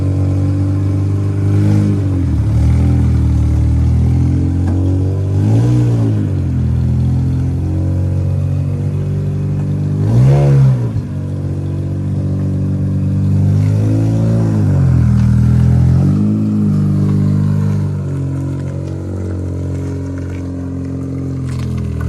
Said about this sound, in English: So that was the sound of the Bonez pre-silencer and a straight pipe.